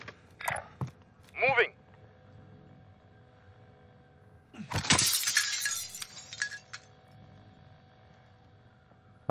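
Glass breaking and shattering in a room, a burst of crashing and tinkling shards around the middle, preceded by a couple of short vocal sounds and followed by scattered clinks as the pieces settle.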